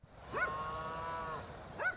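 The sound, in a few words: cows mooing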